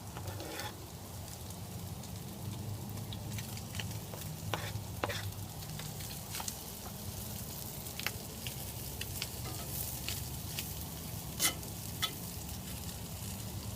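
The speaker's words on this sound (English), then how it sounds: "now that I've let my Spam, my potatoes, my onions, and my garlic kind of saute up a little bit, I'm going to go ahead and add in my mushrooms" Spam, potatoes, onions, garlic and mushrooms sautéing in a pan inside a camper van, a steady close sizzle with scattered pops and crackles throughout, no talking.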